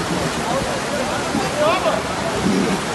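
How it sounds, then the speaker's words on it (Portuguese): Raging floodwater from heavy rains in Pernambuco rushes past houses near a bridge, a loud, constant roar of churning water with an agitated voice faintly under it. "Olha aí, água brava."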